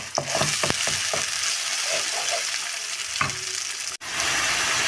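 Spices (turmeric, chili and coriander powder) fry in fish oil with onions for an eggplant fish curry, giving a steady close sizzle broken by a few sharp stirring clatters, with no voices.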